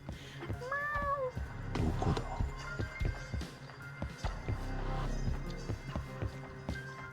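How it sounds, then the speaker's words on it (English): A cat meows a few times in the video game Judgment, rising, whiny cries near the start, with footsteps, ambient game sounds and faint background music underneath. "Oh, look, a cat."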